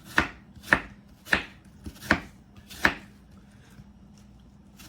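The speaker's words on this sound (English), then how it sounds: "And then I take the piece and just slice it." Knife slicing apple pieces thin on a cutting board for apple crisp: six sharp, evenly spaced chops close by, each a crisp crunch-and-tap against the board, with no talk.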